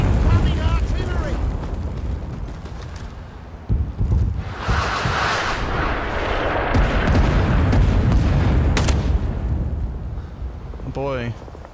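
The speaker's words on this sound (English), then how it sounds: "Incoming artillery." Artillery shells exploding in the Vietnam War shooter Rising Storm 2, with loud deep booms and rumbling blasts rolling through wind-like noise, and a voice talking over the barrage.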